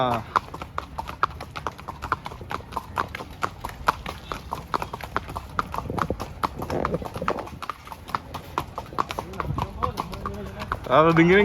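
Horse hooves clip-clopping steadily during a ride at Kodaikanal Boat House, a brisk, even rhythm of close hoof strikes continuing throughout while people talk over them.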